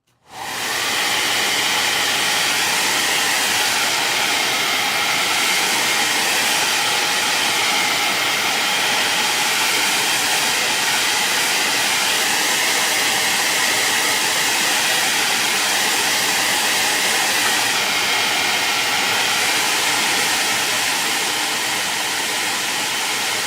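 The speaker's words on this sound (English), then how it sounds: "now we'll go ahead and blow dry" A hair dryer blows steadily on wet paint coating a homemade wooden cookbook or tablet stand, a loud, continuous airy roar that starts abruptly and holds nearly unchanged for over twenty seconds with no talking.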